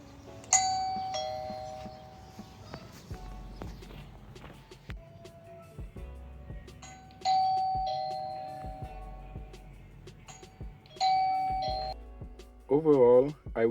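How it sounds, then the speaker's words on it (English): Wyze Video Doorbell Pro chime ringing three separate times, each a clear two-tone ding-dong, with quiet room noise and faint movement between rings and a brief electronic warble at the end. "I'm gonna show you what the doorbell sound like."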